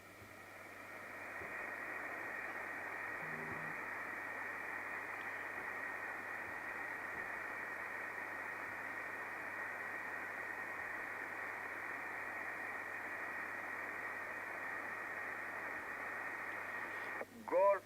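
Steady broadband hiss fills an amateur radio band received on a snow-loaded antenna, a constant static roar at moderate level with a faint tone near the start and a short chirp of interference at the end.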